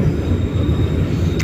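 The Blambangan Express passenger train runs on rails, heard from on board as a loud, steady low rumble and clatter of wheels that continues without a break.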